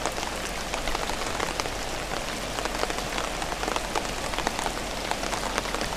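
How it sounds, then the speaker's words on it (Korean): Steady rain falls over flooded rice paddies, a dense, even patter of drops hitting water and leaves with scattered sharper splashes, continuous and close with no voices. "고마운 비가 내렸다."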